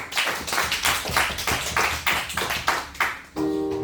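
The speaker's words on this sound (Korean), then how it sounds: "박수가" A small church congregation gives a round of rhythmic, fairly loud clapping, about eight beats in steady time, before the claps stop and a faint tone takes over.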